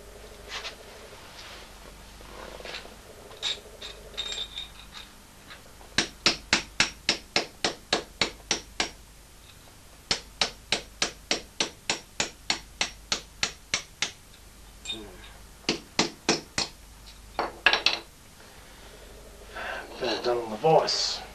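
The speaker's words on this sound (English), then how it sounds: "So involve a fair bit of hammering and bending" Sharp metallic strikes on a metal bracket being hammered and bent, in rapid bursts of ten or more, pausing between runs, with quieter clanks and handling noise around them; close and loud.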